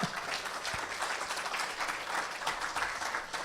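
Applause from an audience at a school board candidate forum, a steady patter of many hands clapping at moderate distance, quiet and even throughout, with no voices over it.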